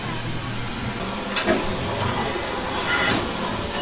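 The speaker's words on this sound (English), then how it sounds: "large loco from the last days of steam" Steady broadband hiss of a steam locomotive, continuous and fairly loud, with faint rail rumble underneath and brief surges in the hiss.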